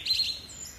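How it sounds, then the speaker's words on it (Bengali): A cartoon sound effect of myna birds calling beneath a centuries-old tree: a quick burst of bright, high chirps right at the start, then fading to a faint hush. "দিনে গাছটার নিচে শালিক পাখি ডাকে"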